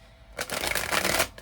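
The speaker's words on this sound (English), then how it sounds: "let's take it easy on the shuffling" Tarot cards shuffled by hand in a quick, papery riffling burst lasting about a second, close and fairly loud, with no talking over it.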